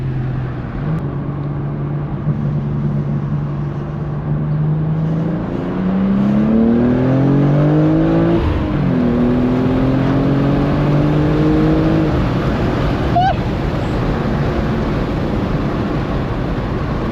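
A BMW M2 engine pulls hard from the driver's seat, the revs climbing steadily through the gears with a shift dip midway, loud and continuous with road roar underneath.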